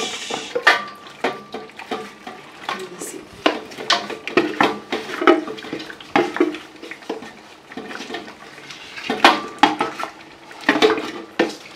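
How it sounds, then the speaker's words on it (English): Meat and stock go into a cooking pot for an assorted-meat stew, with repeated clattering knocks, splashes and scraping bursts of metal and liquid, close and fairly loud throughout. "we're going to put in our meat together with the stock"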